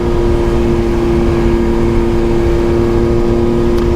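A 2024 Yamaha MT-09 motorcycle cruises at a steady speed with its engine droning loud and constant, a low even hum blended with heavy wind rush, heard from the rider's seat with no speech.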